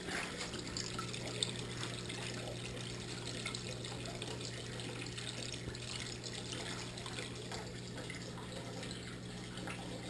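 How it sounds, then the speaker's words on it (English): Water flows steadily through a freshly primed overflow on a 150 aquarium, making a constant trickling rush with a low hum beneath it that continues evenly throughout. "this clip is to show that I just primed the overflow."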